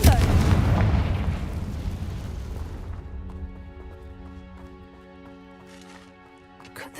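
A Confringo spell explosion in a Harry Potter-style video game bursts loudly at the start, then rumbles and decays over a few seconds, giving way to a sustained musical game score with a brief flare near the end.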